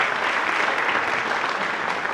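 Steady audience applause at a high school movie festival screening night, dense continuous clapping from a crowd at moderate distance with no gaps, lasting the whole stretch.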